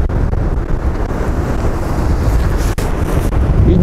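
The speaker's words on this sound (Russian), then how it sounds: "Ну и, конечно, волны с этой стороны." Storm surf pounding a beach at Shirokaya Balka on the Black Sea, a loud, continuous roar of breaking waves mixed with heavy wind buffeting the microphone, steady throughout with one brief dip near the end.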